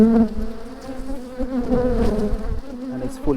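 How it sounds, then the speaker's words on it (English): Young honeybees crowd a capped brood frame, their close, steady buzzing hum running throughout with a few louder wingbeat swells. "young bees"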